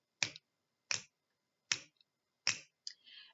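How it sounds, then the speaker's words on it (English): Four crisp, isolated finger snaps ring out at an even, roughly steady pace in a quiet room, followed by a softer fifth snap and a faint rustle. "You could snap your fingers."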